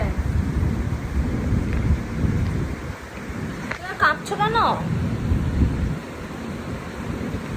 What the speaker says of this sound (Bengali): বাইরে বৃষ্টি হচ্ছে আর খুব বিদ্যুৎ চমকাচ্ছে, আবার আওয়াজ হবে না।